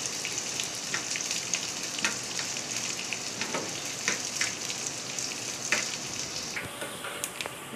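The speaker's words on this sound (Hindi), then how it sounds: "अब हम इसके अंदर ऑनियन ऐड कर देंगे, ऑनियन को फिर हम हल्का गोल्डन ब्राउन तक फ्राई करेंगे" Onions frying in hot oil, a steady dense sizzle with small crackles and pops throughout, fairly quiet and without voices.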